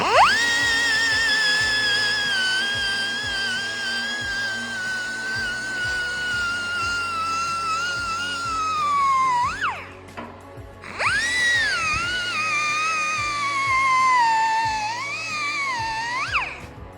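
A power tool whines at a high pitch as it polishes a metal weld on a Jet Stream Buccaneer four-seater boat build, running for long steady passes that briefly cut out and rise again, close and loud without talk.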